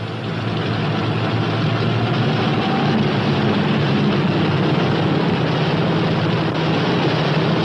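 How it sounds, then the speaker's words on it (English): A P-61 Black Widow aircraft engine idles at low RPM with the throttle closed, a loud, steady, continuous rumble and roar that holds without a break for nearly eight seconds. "Close the throttle to run your engine as slowly as possible until oil pressure is indicated."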